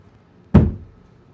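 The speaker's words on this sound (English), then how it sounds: "Knock twice if you had a case." A single dull knock sounds through a wall, one short, solid thud that fades quickly in an otherwise quiet room.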